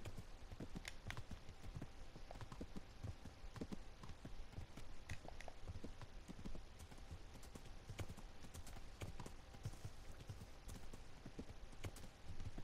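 Horse hooves clip-clop steadily in the medieval game Kingdom Come Deliverance, a continuous quick rhythm of faint hoof strikes with no speech.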